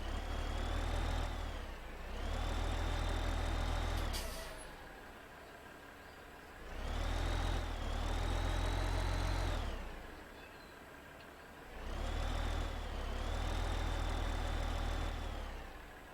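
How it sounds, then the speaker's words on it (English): A farm tractor idling in the video game Farming Simulator 15, a low steady engine drone that swells and fades in three repeated cycles, rising in pitch and loudness each time before settling back, with no talk. "Bro, look, check out my new tractor."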